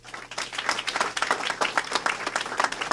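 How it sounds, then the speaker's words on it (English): An audience at a school board meeting claps for student wrestlers who qualified for the state tournament, a steady round of applause from a modest crowd in a room. "Give them a round of applause."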